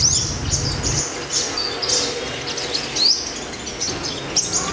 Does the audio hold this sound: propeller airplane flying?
no